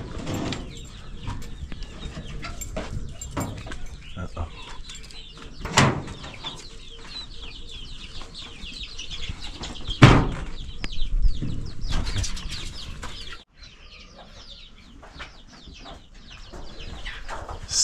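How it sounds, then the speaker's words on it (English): Chickens cluck on a small chicken farm in Gambia, with scattered calls and a wing flap over a busy outdoor background, continuing throughout without talk. "as you can see, Ablasi is having a little chicken farm"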